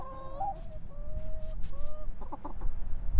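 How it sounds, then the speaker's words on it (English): Rhode Island Red chickens cluck and murmur nearby in short, rising and falling calls, a few overlapping, with some scratching and rustling underneath. "Rhode Island red chickens."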